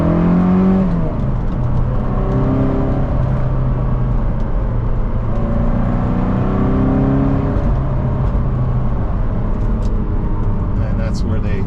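A 1998 Lotus Esprit V8 twin turbo drives along a hilly road, its engine droning loudly and rising and falling through the gears with turbo whir, while someone talks over it from inside the car.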